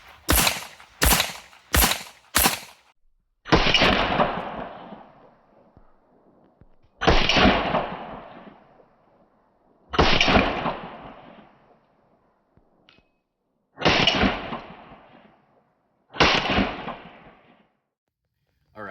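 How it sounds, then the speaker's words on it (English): Pistol firing Super Vel 124-grain ammunition outdoors: four sharp shots in quick succession, then five loud reports spaced a few seconds apart, each with a short echoing tail. "Moving on to the Super Vel 124s, same thing, 5 shots fast and then 5 shots slow."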